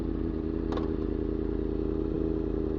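Dirt bikes ripping past while doing wheelies, their engines a constant loud, rough drone throughout with a brief rattling clatter.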